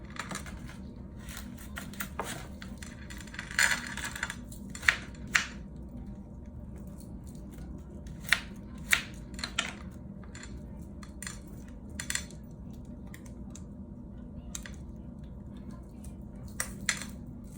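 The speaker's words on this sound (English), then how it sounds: "now I'm going to chop up half of this onion" A knife chops through an onion on a cutting board in a steady series of sharp, close taps, with a few louder knocks and quiet pauses in between.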